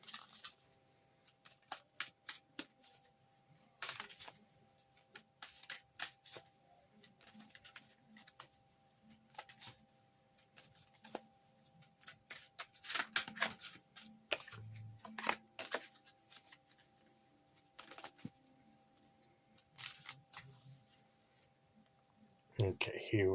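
Tarot cards being shuffled and drawn, a quiet run of soft flicks, riffles and taps scattered irregularly across the whole span, faint and close with little else in the background.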